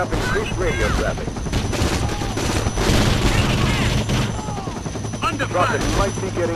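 Dense, continuous gunfire rattles throughout a battle in the game Conflict: Global Storm, with overlapping bursts, a low rotor-like drone underneath and shouted voices mixed in.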